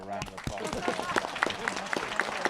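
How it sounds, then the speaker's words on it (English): Brief audience applause for a patient panel at a medical patient summit, scattered claps mixed with talking voices and a clattering, uneven texture rather than a full sustained ovation. "And I think we'll give a round of applause."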